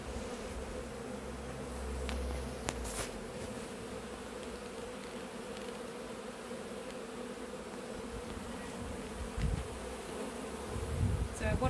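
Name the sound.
honeybees buzzing around a hive box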